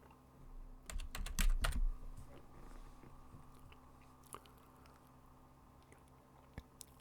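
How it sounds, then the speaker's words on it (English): A computer keyboard typing a keyword into an icon search bar, a quick burst of close key clicks at the start, then a few scattered faint taps. "Type a keyword in the search bar at the top,"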